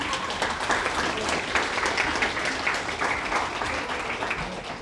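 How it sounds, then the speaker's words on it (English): Sustained round of applause from an awards-ceremony audience for the Utah Safety Council team, a dense, even wash of many hands clapping with faint voices mixed beneath. "give them a round of applause"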